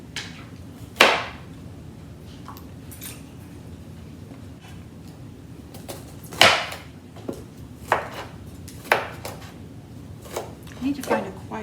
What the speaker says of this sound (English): I need to find a quieter chopping board.